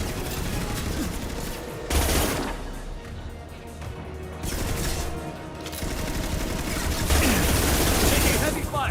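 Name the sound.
gunfire in a firefight in the video game Mass Effect 2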